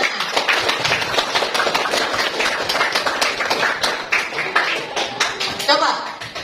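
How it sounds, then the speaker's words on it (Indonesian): A crowd of students at a school event claps together in quick, steady bursts, with voices chattering underneath the whole time. "Coba tepuk tangannya, tepuk semangatnya."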